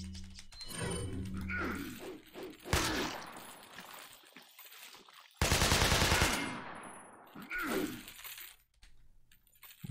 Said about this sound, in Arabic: 15 طلقة في الرشاش